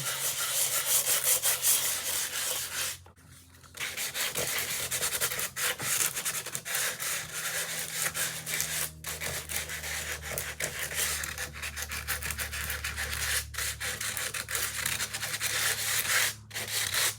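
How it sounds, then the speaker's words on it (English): Repeated rhythmic scratchy rubbing of light hand sanding on embossed paper, close up, with brief pauses between strokes and no talking. "just give it a light sanding"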